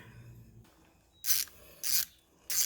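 A coolant drain bolt comes off a Yamaha Kodiak 400 ATV with three short, bright ratcheting bursts separated by quiet pauses, close up and with no talking.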